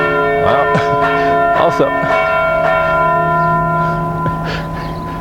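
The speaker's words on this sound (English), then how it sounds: "you know you're in Europe when you hear bells" Church bells ring loudly in Braga, Portugal, with long, overlapping tones that hum and fade, while a person talks briefly over them.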